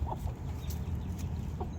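A rooster calls to its hens with soft, repeated clucks, close and fairly quiet over a low steady background hum, with no talking.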